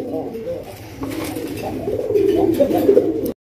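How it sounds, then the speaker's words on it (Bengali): A pair of colored Rasgolla pigeons coo close by in soft, repeated throaty calls that grow louder toward the end, with some human voice in the background. "এক জোড়া কালারিং রাসগোল্লা কবুতর দেখেন"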